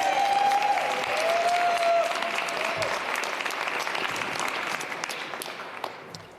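Applause from a crowd at an outdoor political rally on tax reform, loud and sustained for several seconds before slowly thinning out, with a faint whistle-like tone near the start.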